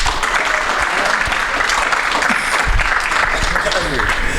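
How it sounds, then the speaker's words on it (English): Audience clapping fills the room in a dense, steady round of applause at a sports talk event, with scattered voices and cheers mixed in throughout. "Can we give Dhani a round of applause?"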